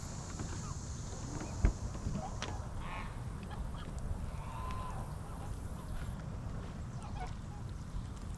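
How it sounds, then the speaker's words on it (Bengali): Ducks at a park pond in Edmond, Oklahoma, giving scattered quacks and calls over steady outdoor background noise, fairly near, with one short sharp knock early on. "তোমরা দেখতে পাচ্ছ হাঁসগুলো আমার অনেক কাছে চলে আসছে"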